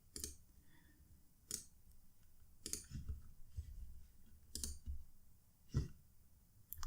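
Mouse clicks at a computer during a game session with black cards, several sharp isolated clicks spaced a second or so apart over a quiet background hum.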